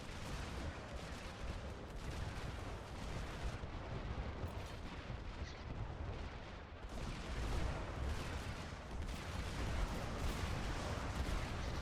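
Artillery fire rumbles continuously in the video game Sanctuary, a dense wash of distant booms and gunfire that swells slightly louder toward the end, with no talk.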